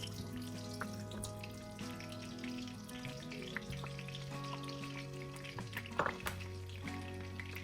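Meatballs for sweet spaghetti fry in a hot wok, a soft, steady sizzle close by with occasional faint clinks and stirring noises.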